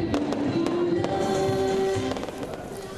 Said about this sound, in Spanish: estuvo acompañado de impresionantes fuegos artificiales